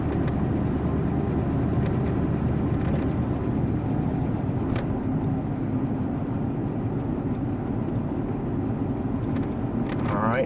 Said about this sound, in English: I'm driving through a residential neighborhood here, so I can't go above 25